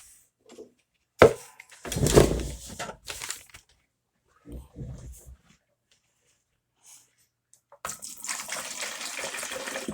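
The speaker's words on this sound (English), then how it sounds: "I'm gonna water this first." Water is poured from a cat litter container onto a jade plant in short bursts, splashing and dribbling up close, with quiet handling noises and pauses between pours.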